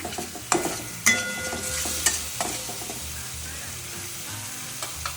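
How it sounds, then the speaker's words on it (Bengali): Small new potatoes and a spice paste fry in a pan for an onion- and garlic-free dum aloo, a soft sizzle broken by a few sharp stirring scrapes and knocks. "একটু ভাজা হোক।"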